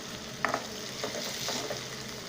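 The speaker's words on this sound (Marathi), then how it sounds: "बटाटा पण आपला चांगला फ्राय झालेला आहे" Potatoes frying in a pan for sabudana khichdi give a soft, steady sizzle with a few light scrapes and stirs, quiet and close.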